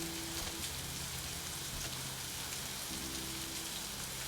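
Steady rain hisses continuously on a surface, a dense close wash of sound with a faint low hum underneath.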